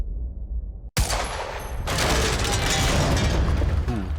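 A sharp gunshot in the video game Quantum Break hits destructible objects and sets off a long crumbling, clattering roar of debris and mechanical rumble that fills the rest of the moment.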